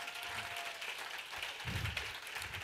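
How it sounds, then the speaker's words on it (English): An audience applauds to welcome a guest onto the stage, steady dense clapping at moderate level for a few seconds. "Please give him a big round of applause."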